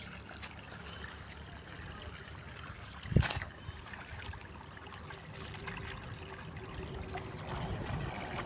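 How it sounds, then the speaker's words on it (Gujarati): Steady trickle of water running into an irrigation channel in a field, a continuous low gurgling wash with one brief splashy burst partway through, heard close and alone. "અહીંયા પાણી જાય ને આ ધોર્યો આખો પલાર દેવો"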